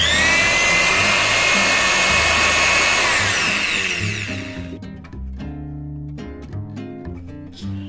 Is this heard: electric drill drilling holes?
yes